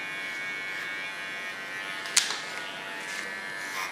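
Electric hair clippers with the blade set fully back to 1 millimetre, trimming hair during a styling make-over, a steady close high buzz with a brief sharper bite of cutting partway through.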